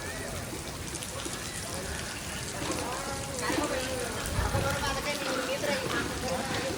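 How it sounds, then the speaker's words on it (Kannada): Heavy rain at Jog Falls, a dense steady hiss of rainfall and running water filling the scene, with faint background voices and a slight swell in intensity toward the end. "ಜೋಗ್ ಫಾಲ್ಸ್ ಇಲ್ಲಿ ನೋಡಿ, ಸಿಕ್ಕಾಪಟ್ಟೆ ಮಳೆ ಇದೆ"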